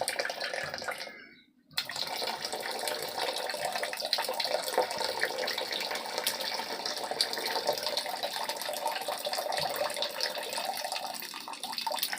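Boiled wild greens are being washed under running water, with a steady close gush that breaks off briefly near the start and then runs on without pause.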